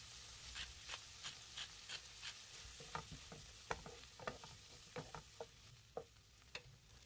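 Garlic and minced shrimp stir-fried in oil in a frying pan over medium heat, a soft continuous sizzle under repeated sharp scrapes and taps of a spatula stirring, roughly two per second, fairly quiet and without speech.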